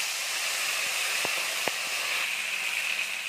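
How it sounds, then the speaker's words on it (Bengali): Chicken leg pieces frying in hot oil give a steady, even hiss with a couple of short clicks and pops near the middle, running unbroken for the whole stretch with no voices. "এখন আমরা এর মধ্যে দিয়ে দেবো লেগ পিসটাকে আমরা একটু ভেজে নেব।"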